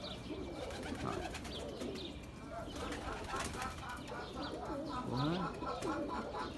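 Pigeons coo repeatedly at a rooftop pigeon loft around 5 a.m., a steady murmur of overlapping coos with some wing flapping and chirps against continuous background noise.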